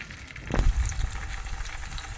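Lemons frying in used cooking oil, a steady close sizzle with a brief stronger crackling swell near the start, then settling into even bubbling hiss without speech.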